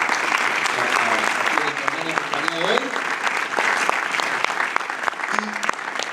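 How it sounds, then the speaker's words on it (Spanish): Steady, full audience applause at a church question-and-answer gathering, loud and sustained throughout, with a voice talking over the clapping. "Le damos un aplauso al Señor"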